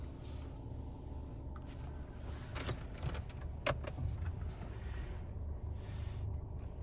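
Steady low road rumble and tire noise inside a 2020 Mercedes-Benz E350 as it drives on the road, with a few faint clicks and taps in the cabin and no talking.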